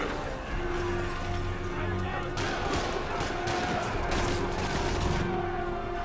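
Rapid bursts of gunfire crackle through a Spider-Man video game battle, overlapping shots mixed with game music and ambient noise, with people talking over the action.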